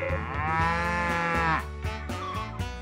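Cows in the farming video game Story of Seasons: Pioneers of Olive Town let out loud, drawn-out moos, one long call followed by shorter overlapping lows from the herd, with no talking.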